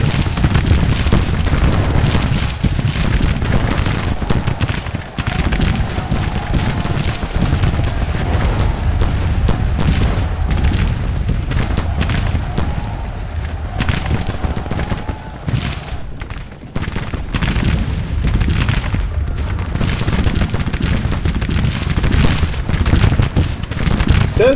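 Battle gunfire rolls on in the Grand Tactician: Civil War video game, with dense, overlapping volleys of musket fire and booming artillery forming a loud, continuous fusillade throughout.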